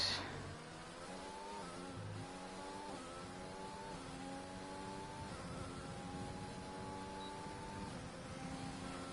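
A Williams Formula 1 car in a racing video game crosses the line in Brazil, its engine holding a steady high-pitched whine with small upward shifts in pitch, fairly faint but continuous for the whole stretch.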